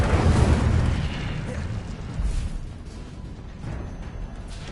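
Incendio fire spell cast in Hogwarts Legacy: a roaring, rumbling burst of flame that swells loudly at first, then settles into a lower crackling whoosh with a second surge.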